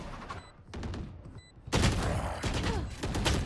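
Rapid gunfire during a Valorant round, a sharp volley of shots followed by further loud bursts, close and dense with brief gaps.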